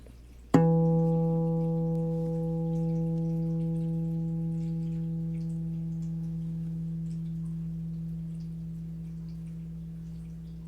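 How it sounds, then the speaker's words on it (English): A single harmonic plucked on a Pepe Romero DH6-SM mini guitar rings out as a clear bell-like tone, sustaining alone for about ten seconds and slowly fading in a quiet room. "I'm going to let you hear a harmonic here so that you can see how long this instrument resonates"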